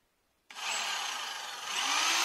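A power tool drives self-tapping screws into a floorboard on a second-floor frame house floor, a sudden close whirring grind that starts abruptly and holds steady for about two seconds, rising slightly at the end.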